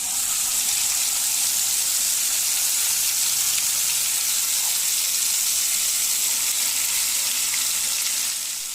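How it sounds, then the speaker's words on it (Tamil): A steady, loud sizzle of tempering ingredients crackling in hot oil for pirandai (adamant creeper) chutney fills the whole stretch, close and continuous, with no voices. "எண்ணெய் நல்லா காஞ்சிடுச்சு. இப்போ நாம் அதில் போட்டு தாளிக்க வேண்டியது."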